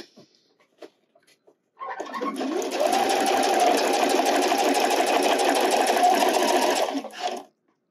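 A sewing machine stitches along the channeling of a wireless bra in one steady, continuous run of about five seconds, close and fairly loud, with no talking.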